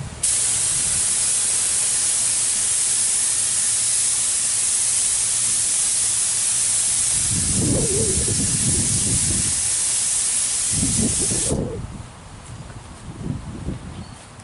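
Aerosol spray paint hisses loudly and steadily onto a car fender outdoors in wind for about eleven seconds, then the pressure fades and the spray weakens into a thinner, sputtering hiss with a few low bumps.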